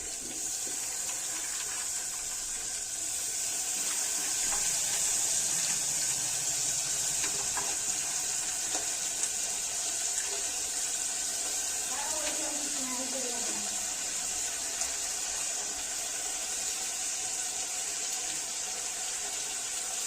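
Chana dal lentils rinsed under steadily running tap water, a continuous wash of flowing water lasting throughout with faint kitchen handling sounds and no clear talk.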